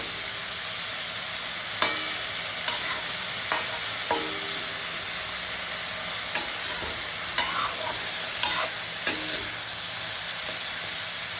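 Eggplant frying in oil with turmeric and salt, a steady bright sizzle with occasional sharp clicks and taps of a utensil against the pan, no voices.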